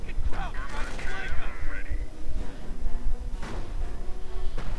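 Gunfire and sniper shots in a WWII strategy video game crackle and thump through a busy battle mix, with a commentator speaking over the scattered shots.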